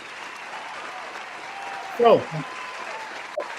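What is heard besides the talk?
audience applause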